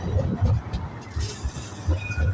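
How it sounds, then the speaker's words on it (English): An Edinburgh tram on the Newhaven to Edinburgh Airport route arrives at the Edinburgh Park stop. It gives a fairly loud, rhythmic low rumble with repeated wheel clunks as it rolls in. "we've got a New Haven to Edinburgh Airport tram arriving in a special livery"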